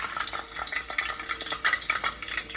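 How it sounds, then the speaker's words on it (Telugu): Eggs fry in hot oil in a kadai with a bright, crackling sizzle and a few metallic scrapes and taps against the pan, close up and steady, with no speech. "ఇప్పుడు నేను దీనిలో ఎగ్స్ ఫస్ట్ వేపుతానండి"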